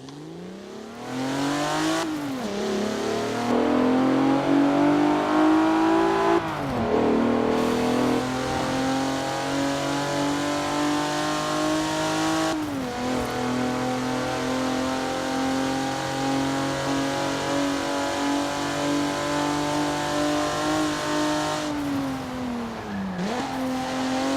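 A sports car engine in Forza Horizon 4, a 3-litre Skyline-type engine, revs and holds a high, buzzing drone, with several sharp drops and rises in pitch as it shifts.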